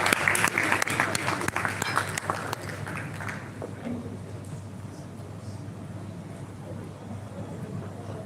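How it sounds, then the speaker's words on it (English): An audience applauds CORA at a live event, with a burst of clapping over the first few seconds that fades into a murmuring room with low background hum. "Please, a big round of applause for CORA."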